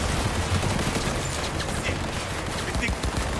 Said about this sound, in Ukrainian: Ой, вже по мені стріляють.